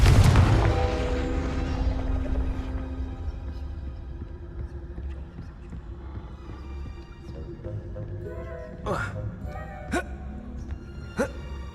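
A Confringo fire spell from Hogwarts Legacy goes off with a loud, booming blast at the start. A low rumble lingers and slowly fades, and a few sharp cracks follow later on.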